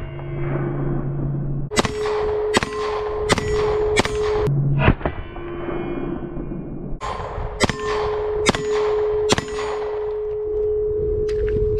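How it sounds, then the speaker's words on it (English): Rapid pistol shots from a Canik SFX Rival strike a large steel gong target at 15 yards, each crack followed by a bright ringing clang, fired in two quick strings with a short pause between. "we're gonna shoot that quick at that middle steel target here, the big gong"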